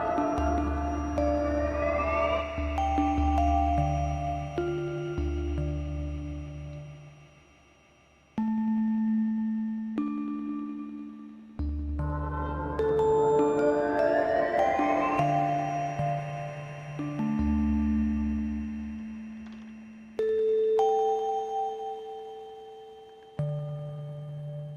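Procedurally generated synthesized music from a roguelike game: clean sine-like tones play in shifting clusters, with busier passages of overlapping notes alternating with sparser stretches of single sustained pitches.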